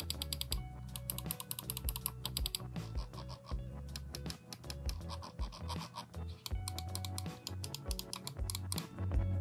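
Button clicks from a VXE Dragonfly R1 SE gaming mouse, a 51-gram lightweight model with black side buttons, clicked in fast, dense bursts that run close and steady throughout.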